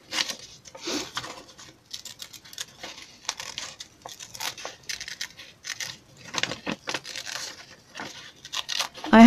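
Paper is cut with scissors for a craft piece in a run of quick snips, crinkles and rustles, close and moderately loud, each snip brief and uneven in rhythm.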